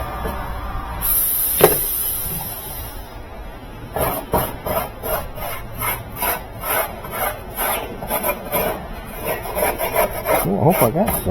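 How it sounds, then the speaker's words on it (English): Old sealant being scraped off a part during a clothes dryer motor replacement, heard as a run of close, rhythmic rasping strokes after a few seconds of lower, quieter handling noise. "Scrape off all this old stuff."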